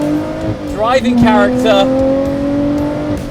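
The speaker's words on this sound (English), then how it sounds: "listen to this V6" Lotus Exige 390 Final Edition V6 engine revving, with a sharp rising blip of revs followed by a steady droning engine note, heard under a voice talking.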